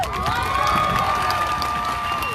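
A protest crowd at the Rhode Island State House cheers, shouts and applauds in a brief, dense burst of many overlapping voices, steady and fairly loud.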